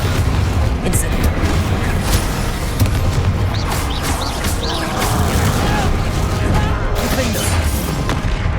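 Rapid spell explosions in the video game Hogwarts Legacy, a dense loud barrage of booms, blasts and crashes filling the whole stretch, with bursts of spoken incantations and heavy low rumble underneath.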